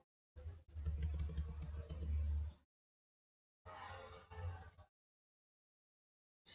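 Typing on a computer keyboard, with two bursts of rapid clattering key presses separated by a short silence. The keys sound close and clear, and no voices are heard.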